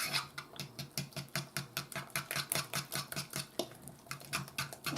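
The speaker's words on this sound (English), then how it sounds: "Now we're just going to mix this all up." A utensil beats ingredients with egg in a bowl for a chicken dinner, giving quiet, rapid, regular clicks and taps against the bowl, about four or five strokes a second, with no talk.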